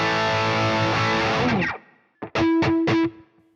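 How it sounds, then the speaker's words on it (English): An electric guitar through the Bogren Digital MLC Subzero 100 with reverb rings out with a sustained chord that fades, then a few sharp distorted stabs follow with a brief tail. "Now, let's put some of that reverb in."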